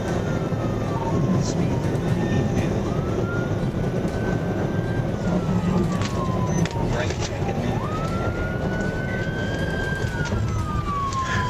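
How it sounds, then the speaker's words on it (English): A police car siren wails, rising and falling in long sweeps over a loud, steady rumble of road or engine noise during a high-speed pursuit, continuous throughout. "Emergency lights and siren were activated"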